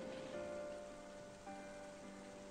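Rain falling in the video game Final Fantasy XIII, a steady even hiss of drops pattering on surfaces, soft and continuous throughout with no voices.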